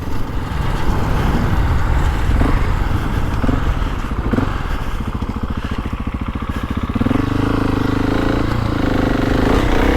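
A GasGas ES 700 motorcycle being ridden while being run in, a loud, steady engine drone with a throbbing pulse that shifts pitch as the revs change partway through, heard alone.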